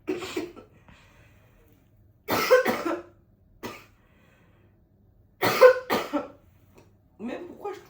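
Several harsh coughs in bursts, close by, separated by quiet pauses, with a brief throat sound between them.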